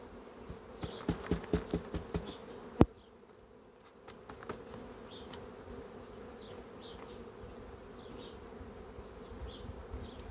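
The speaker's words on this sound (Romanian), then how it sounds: "Foarte multă albină." A steady buzz of honey bees crowded in a hive hums throughout, with a few sharp taps and clicks in the first three seconds, then a continuous low drone.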